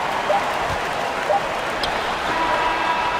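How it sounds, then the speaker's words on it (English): A large arena crowd at an NBA game roars and cheers as a shot beats the buzzer, in a sustained, dense wash of noise, loud and continuous with scattered shouts rising above it. "Listen to this crowd right now."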